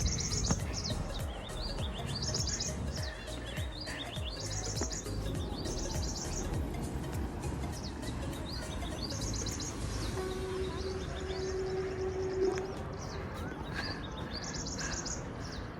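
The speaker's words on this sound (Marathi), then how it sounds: "असा चिमण्यांचा चिप चिप चिप चिप आवाज येत आहे" Sparrows chirp in repeated quick bursts at a short distance over a steady low rumble of outdoor background noise, near Pune.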